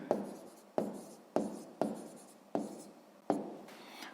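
Pen or pencil writing out a sixth-grade maths answer on paper: six separate strokes, each a sharp scratchy onset that fades, spaced about half a second apart, close and quiet with no voices.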